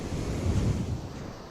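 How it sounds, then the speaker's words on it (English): Easterly wind buffets the microphone while waves break steadily on the sea shore at Carlyon Bay in Cornwall, a continuous near rushing surf with no talk. "Easterly wind."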